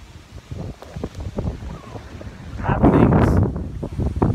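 Wind and water at a shoreline, gusty rumbling wind buffeting the microphone with a rising wash of waves in the second half, loud and close with no talk.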